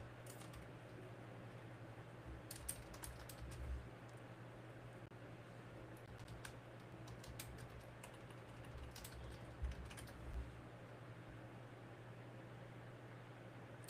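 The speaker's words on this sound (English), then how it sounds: "Let me type to myself." Light typing on a computer keyboard: faint, scattered key clicks in short runs over a steady low electrical hum, with no voices.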